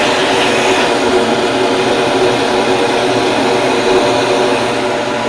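Steady, loud rush of air drawn through an intake filter on a flow bench at 300 CFM, a constant broadband roar with a faint whine, unbroken for the whole stretch with no talking.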